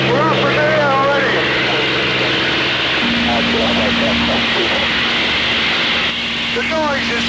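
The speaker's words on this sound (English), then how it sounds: "Spitfire 202 is picking off. The Merlin engine goes into overdrive." A Supermarine Spitfire's Merlin engine drones steadily at full power in flight, a loud continuous roar heard from inside the aircraft, with a person talking over it throughout.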